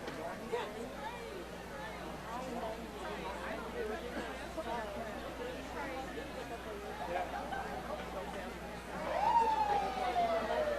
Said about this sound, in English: I hear the sirens going.